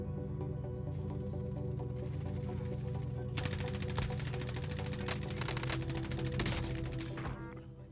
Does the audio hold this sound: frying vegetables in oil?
no